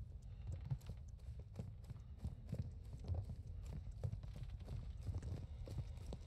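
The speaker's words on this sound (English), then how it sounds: "I hear those footsteps" Footsteps thud in a Modern Warfare 2 (2022) campaign level set in tunnels, a steady run of heavy, muffled steps under low rumbling ambience.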